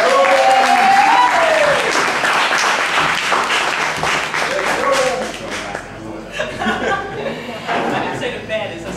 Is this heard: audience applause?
yes